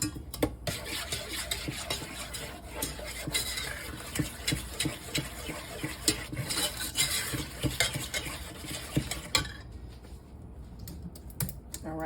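Brown sugar being mixed in a bowl, with a quick steady clatter of a utensil scraping and tapping against the sides, fairly quiet and close, ending in a short lull.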